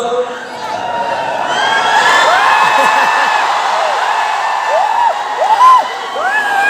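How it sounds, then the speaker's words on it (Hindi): A packed audience in a Patna hall shouts, whoops and cheers continuously, many overlapping voices with rising yells rolling through the crowd, loud and sustained throughout. "आप चिल्लाते रहो, मैं आपको सुनता रहूंगा।"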